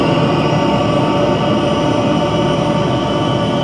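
A train engine accelerating in the Train Simulator 2013 video game gives a loud, continuous, dense rumble and roar that holds steady throughout, with no voices over it.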